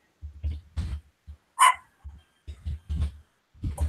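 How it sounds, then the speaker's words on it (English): A puppy gives a single sharp, high yelp or bark midway through, heard close amid low thumps and handling noise, with no talk. "I hear a puppy."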